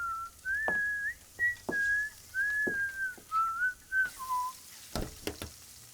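A person whistles a short wavering tune, clear and close, with brief breaks between notes and a few sharp knocks near the end.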